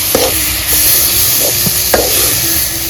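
Milk being stirred in a kadhai for gulab jamun, a continuous loud hissing simmer with occasional scrapes and light knocks of the spoon against the pan, no voices.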